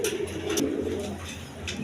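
Indian Bombay pigeons coo softly and continuously at close range in a loft, a low throaty murmur with a few brighter rustles and flutters over it, no talk.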